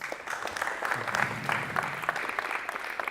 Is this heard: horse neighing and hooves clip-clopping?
no